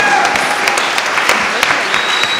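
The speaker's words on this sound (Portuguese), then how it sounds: "Uma salva de palmas para a Natália." Applause in a podcast studio during a Christmas special, a short lively burst of close clapping with sharp individual claps and some voices mixed in.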